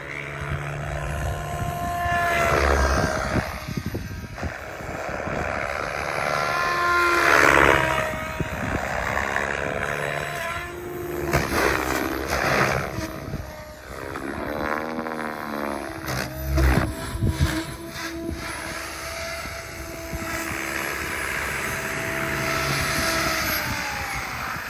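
An RS5 radio-controlled model helicopter whines and roars through a flight, its rotor and motor pitch rising and falling as it maneuvers, loud and sustained throughout.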